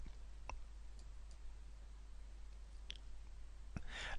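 Sharp, faint computer mouse clicks, one near the start and a couple more later, isolated against a steady low hum with no talking.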